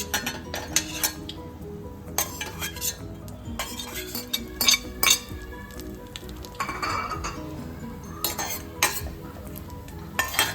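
Cashew pieces sautéed in ghee while a spoon stirs, with repeated sharp clinks and scrapes of metal against the pan over a low sizzle.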